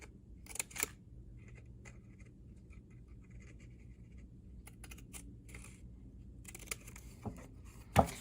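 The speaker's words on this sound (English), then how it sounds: "you use your scissors and just use the tip, you can actually cut the claws out pretty simply" A few quiet snips from scissor tips cutting out paper claws for a groundhog craft near the start and end, with faint rustling and handling noises between them in an otherwise hushed setting.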